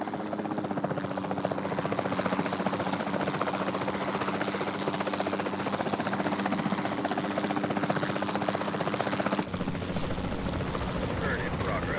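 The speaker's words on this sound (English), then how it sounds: "Then the sensible thing is to take a capture team helicopter." Capture team helicopter in Jurassic World Evolution 2, a steady loud rotor whir and engine drone running continuously, briefly shifting near the end.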